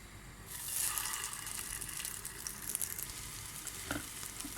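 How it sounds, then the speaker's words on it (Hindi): Chicken roasted shami kebabs sizzle in hot oil in a pan, a steady close hiss that swells in after a quiet start and carries on with faint crackles and a soft knock near the end, without speech. "अब इसको मैं फ्राई कर रही हूँ"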